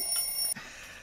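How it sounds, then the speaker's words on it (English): Kitchen egg timer ringing: a bright, high metallic ring held for about half a second, then cut off sharply, leaving faint room tone. "there's the egg timer."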